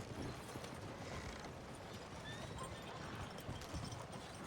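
Horse hooves clip-clopping at a steady walking rhythm in a video game, a horse pulling a cart, continuous and fairly close under a faint background hum.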